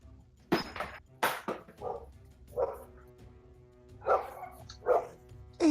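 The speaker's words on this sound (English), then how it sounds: "Dumb motherfucking dogs." Dogs bark in several separate bursts at close range, the barks spaced irregularly with a faint clink between them and no talking.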